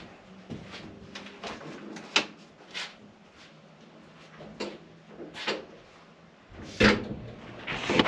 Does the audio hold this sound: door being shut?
yes